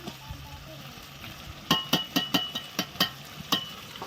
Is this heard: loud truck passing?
no